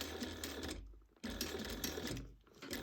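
A sewing machine stitches through a bag at the D-ring connection piece, running in a steady close mechanical whir with two brief pauses between bursts.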